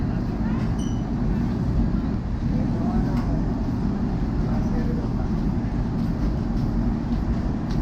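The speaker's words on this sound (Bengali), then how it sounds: "এই যে ট্রেন ছেড়ে দিচ্ছে" Coromandel Express pulling out of a station platform, a continuous low rumble of the moving train with steady rolling noise throughout, loud and close, with people talking over it.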